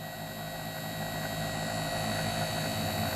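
A steady, faint mechanical whir with a tonal hum comes from the gearbox motor of an MGI Zip Navigator golf trolley running left, with a slight rise in level partway through.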